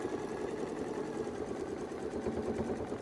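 A sewing machine stitches a quilt along a Westalee ruler template, a steady continuous motor hum with rapid needle pulsing that runs unbroken and close for the whole stretch.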